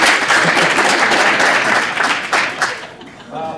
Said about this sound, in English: We're going to applaud one time.